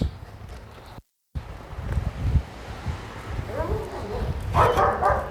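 Puppies barking outdoors among a flock, a few short yips and barks rising near the end over wind noise on the microphone, with a brief dropout early on.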